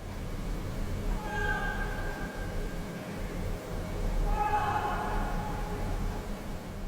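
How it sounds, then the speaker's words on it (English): A cat gives two drawn-out meows a few seconds apart, faint and somewhat distant over a steady low hum. "Can you hear those little meows?"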